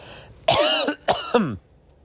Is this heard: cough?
yes